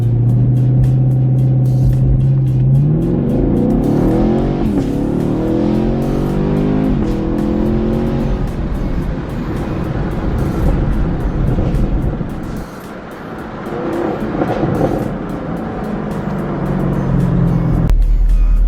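A 2019 Chevrolet Camaro SS V8 launches from a foot-brake hold at 2,000 RPM, its engine roaring loudly and rising through the gears, then easing before it pulls hard again.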